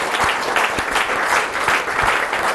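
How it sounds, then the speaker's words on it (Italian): An audience at an Italian CONI Veneto Paralympic sport event claps in a dense, loud, steady burst for athlete Silvana Santi. "Facciamo un applauso a Silvana"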